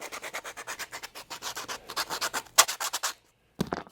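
Sanding the cut edge of a clay sink bottle trap to clear burrs, a close, steady run of rhythmic rasping strokes with a brief sharper scrape near the end, then a pause and a few more strokes.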